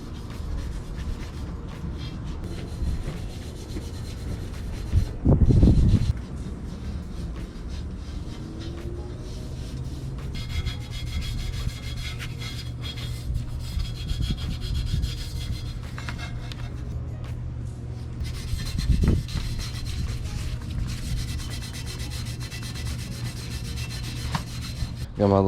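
Someone scrubs an Acura TSX exhaust header with Lysol, making a steady, close, gritty rubbing that continues throughout with brief harder strokes and no talking.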